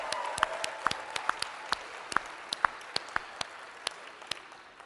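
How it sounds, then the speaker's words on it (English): Indoor audience applauding for the women, with sparse, scattered hand claps at moderate distance, fairly quiet and uneven in rhythm. "Guys, can you give them a hand? Let's hear it for the women."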